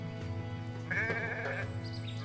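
A sheep bleats once in a short, wavering call within the Renowned Explorers video game, over a steady bed of game music and background sound.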